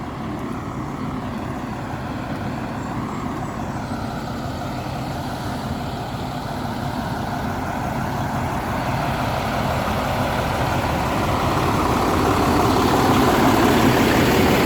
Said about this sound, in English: There's another concrete truck here